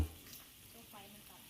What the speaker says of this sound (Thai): มีทั้ง แบบย่าง แล้วก็ แบบต้ม อยู่ใน กระทะเดียวกันเลยนะครับ